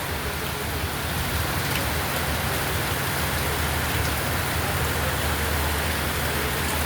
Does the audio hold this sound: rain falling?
yes